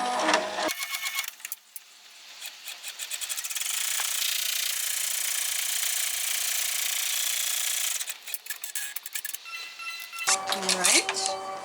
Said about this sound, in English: So stitch out our first placement stitch.